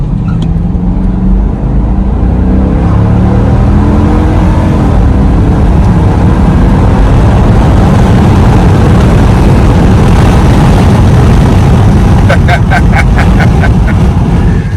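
Steady, loud engine drone and road rumble with wind noise from inside a Dodge Durango R/T driving with the windows down; a few rapid clicks near the end.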